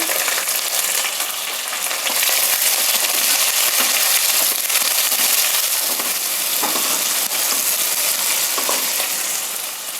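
Black cumin seeds and sliced onions sizzling in a hot pan, a loud continuous frying hiss with small crackles and pops, running steadily without any talk.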